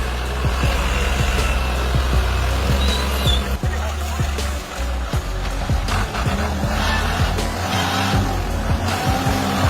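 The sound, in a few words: farm tractor being driven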